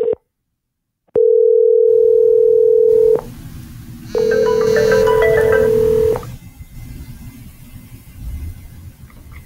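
A phone call placed from a Zendesk dial pad brings two long, steady ringback tones separated by a short gap. Faint background noise follows.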